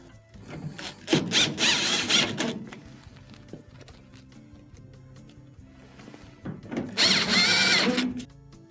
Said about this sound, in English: Reinstall your 2 Phillips screws on the back.